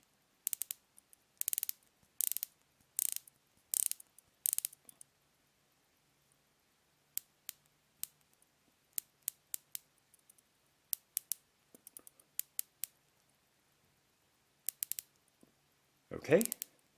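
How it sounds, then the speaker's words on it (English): Sharp, crisp clicks of a Tudor Black Bay watch's unidirectional bezel being turned, coming in quick bursts and isolated ticks with pauses between, close and clear against near silence, ending in a soft rustle. "the unidirectional bezel and how it turns and clicks"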